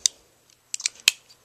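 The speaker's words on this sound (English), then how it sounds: "The scissors" Scissors snip several times up close, just checked after a knife sale: one sharp cut, a quick cluster of three shorter snips, then a louder final snap, with quiet pauses between.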